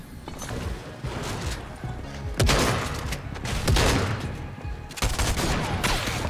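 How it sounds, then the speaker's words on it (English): Video game gunfire from a whole enemy team crackles in dense bursts, with several sharp loud volleys and rapid automatic fire overlapping, close and intense throughout. "now I'm being shot at by another whole team"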